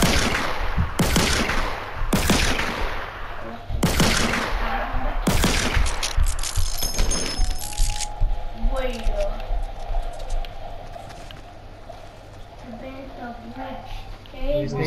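Fortnite gunfire cracks in several loud, sharp bursts through the first half, with a few single shots spaced apart, then gives way to quieter game sounds while a player talks.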